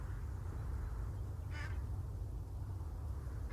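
A single short duck quack from the farming game Farm Together 2, sounding once over a steady low background hum.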